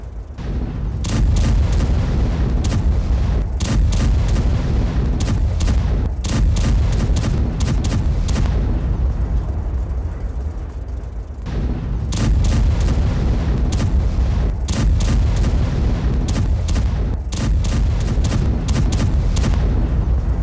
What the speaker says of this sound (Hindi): कुर्स्क में जर्मन मार्डर IFV से हमला किया गया